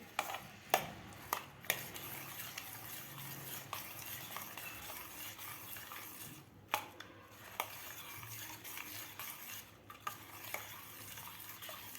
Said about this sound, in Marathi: आता व्यवस्थित आपल्याला यामध्ये मिक्स करून घ्यायचं आहे.